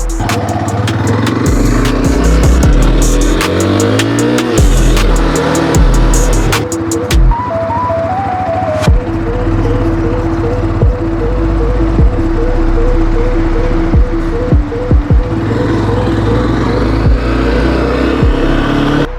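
A Spark SP300T-5 tour enduro motorcycle engine idles steadily and evenly, with a few sharp revs early on before settling into a smooth, continuous running note.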